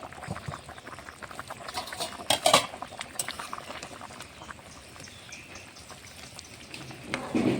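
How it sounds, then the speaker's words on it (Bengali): Fish curry with vegetable stalks bubbling and simmering in a pot, a steady close boil with occasional utensil clinks and sizzles. "মাছটা দিয়ে ভালো করে কিছুক্ষণ সময় ফুটিয়ে নেব।"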